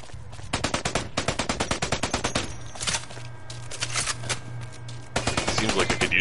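Rapid bursts of automatic gunfire from a customized weapon in the first-person shooter Blacklight: Retribution, loud, close, sharp repeated shots in several volleys with short pauses between them, someone talking over parts of it.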